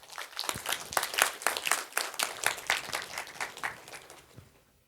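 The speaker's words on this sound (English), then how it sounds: "Man, give yourselves a round of applause." An audience at a motivational talk breaks into applause, a dense burst of many hands clapping at moderate distance that swells, holds steady for several seconds, then fades out, no voices over it.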